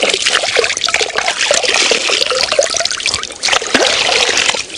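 Water is poured to rinse off saponin soap outdoors, a steady close trickling and splashing stream that runs continuously for several seconds with no talk.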